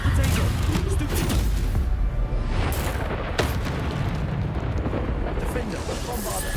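A Bombarda spell explodes in Hogwarts Legacy with heavy booming blasts and crackling bursts in steady succession. The noisy, continuous explosions run over a rumbling low end while a player shouts spell names.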